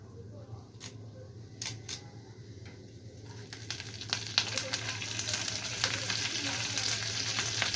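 Curry leaves frying in hot oil in a home kitchen, a steady crackling sizzle that builds and grows denser toward the end, with a few sharp pops early on.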